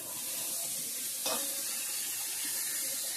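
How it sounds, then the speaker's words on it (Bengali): Eggplant frying in a pan, a soft continuous sizzle at moderate level with one brief louder hiss about a third of the way in. "বেগুন ভাজাটা বসে দিচ্ছি"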